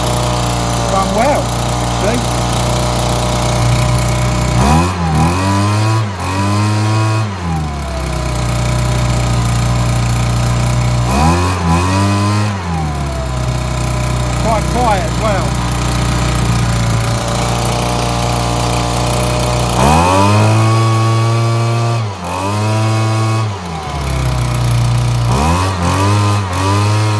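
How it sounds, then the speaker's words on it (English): A Stihl BG72 two-stroke leaf blower runs loud and close throughout, with a steady buzzing engine note. It revs up sharply several times, then settles back toward idle. "the Stihl BG72 is a goer"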